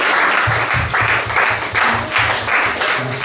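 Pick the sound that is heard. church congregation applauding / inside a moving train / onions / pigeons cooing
church congregation applauding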